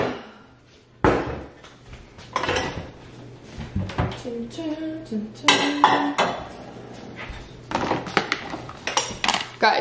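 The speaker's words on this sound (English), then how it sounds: "now I do the dishes" Dishes and cutlery clatter and clink in a home kitchen during washing up, with repeated close knocks of plates, scrapes of utensils and a few soft thuds, while a person talks intermittently.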